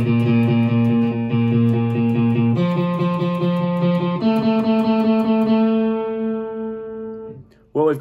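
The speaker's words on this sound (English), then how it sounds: "after the chorus, there is a post-chorus riff" Post-chorus riff of a song on a distorted electric guitar: held, ringing notes that change chord every couple of seconds, loud and close, with the last chord fading out before a brief hit at the end.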